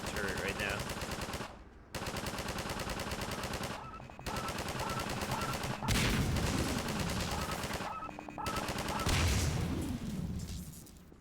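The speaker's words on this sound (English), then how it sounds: "Look how she's just on a turret right now." Sustained turret machine-gun fire in the Half-Life 2 video game, long rapid bursts broken by short pauses, loud and dense, with a voice talking over parts of it.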